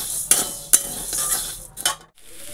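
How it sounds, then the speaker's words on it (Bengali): Cauliflower, potato, carrot and pointed gourd fry in a pan under a steady low sizzle, broken by several sharp scrapes and clinks of a spoon stirring, close up with no talking. "আর এই যে ফুলকপি আলু ভাজা করছি গাজর আর পটল দিয়ে।"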